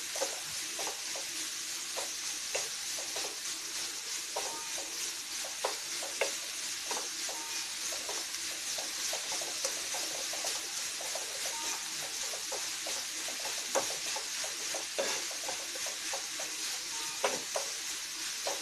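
Sugar melting in a pan for a stuffed banana sweet, stirred steadily with a spoon: soft continuous sizzle with frequent small scraping clicks, fairly quiet and even throughout, no voices.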